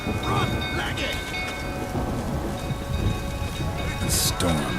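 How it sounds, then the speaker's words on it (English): Thunderstorm with heavy rain in The Witcher 3 video game, a dense steady roar of rainfall with low rumbling thunder and a couple of brief sharp bursts, no clear talk over it. "The storm, damn it."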